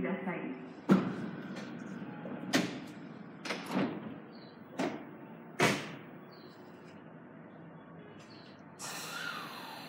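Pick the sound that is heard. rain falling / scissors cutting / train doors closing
train doors closing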